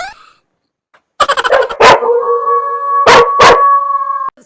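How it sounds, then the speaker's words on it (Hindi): A dog barks in a rapid burst, then breaks into a loud, sustained howl with a couple of sharp yelps over it, close and alone with no talk. "ये तो यहाँ तो कुत्ता भी है।"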